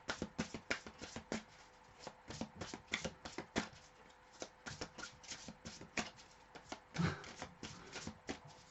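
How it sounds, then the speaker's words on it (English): Rapid riffling of tarot cards, a continuous flutter of soft papery clicks in quick bursts, close and fairly quiet. "Let me just do another good shuffle here."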